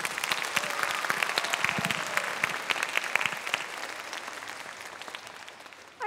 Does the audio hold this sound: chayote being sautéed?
no